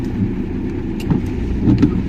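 A car's engine runs in a steady, loud low rumble heard from inside the cabin, with a few faint knocks and shifts as it gets under way.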